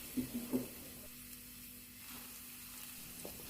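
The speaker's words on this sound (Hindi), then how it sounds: "इसे हल्की आंच पे फ्राई करेंगे" Garlic-ginger paste frying in a pan on low heat for aloo kabab, a quiet, steady sizzle with a few brief stirring knocks at the start, no voices.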